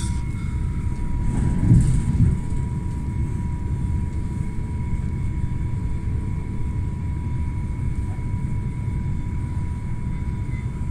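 A Stadler Flirt train rumbles steadily along with a low, continuous drone and a faint high whine, louder briefly near the start, no voices.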